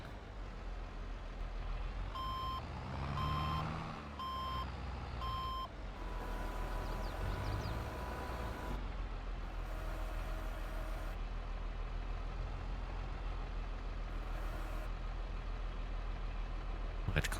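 A dump truck in Farming Simulator 22 hauling dirt at Elk Mountain, Wyoming, sounds four evenly spaced reversing beeps over a low engine drone, then hisses and rumbles as it moves on, with steady mechanical hum throughout.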